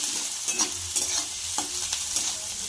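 Chopped onion sautéing in oil in a pan on a gas stove for methi bhaji, a steady hiss with several soft spatula scrapes and stirs, close and alone.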